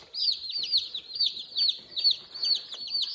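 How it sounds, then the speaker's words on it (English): Newly hatched chicks peep in a rapid, continuous chorus of high, overlapping cheeps, close and fairly loud, with no clucking from adult chickens evident. "we're going to recount the brand new chicks that we have"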